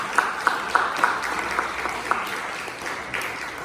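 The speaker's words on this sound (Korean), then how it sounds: "여러분 더 뜨거운 박수로 우리 장로님을 우리 환영하겠습니다." A church congregation applauds during a Sunday service to welcome an elder back; several seconds of steady clapping, a few sharper individual claps standing out, with no talk over it.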